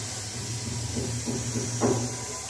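Steady steam hiss from a Prestige-style pressure cooker on a high gas flame, a continuous airy rush with a low rumbling hum beneath and a brief louder burst near the end.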